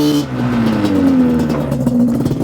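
A 2004 LE Yamaha Banshee ATV with a built engine revs hard and loud up close, its buzzing two-stroke tone sweeping slightly up and down in one sustained burst.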